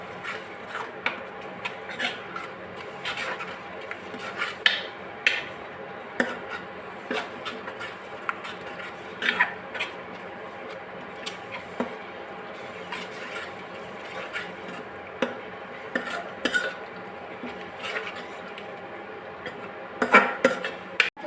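Tomato puree cooking in oil for pav bhaji while being stirred: a steady run of soft rubbing scrapes from the spoon against the pan, close and fairly even, with occasional sharper knocks.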